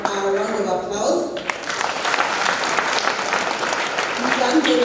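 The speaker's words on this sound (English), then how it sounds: "Let us give them a round of applause." A crowd at a primary school Class 8 meeting claps for the learners' presentation. A voice speaks briefly, then dense, steady applause fills the rest of the moment.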